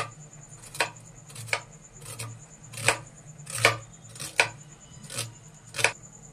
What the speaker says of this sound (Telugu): మీడియం సైజ్ ఆనియన్స్ కూడా 2 తీసుకున్నానండి. ఇవి కూడా కట్ చేసేసుకుందాం.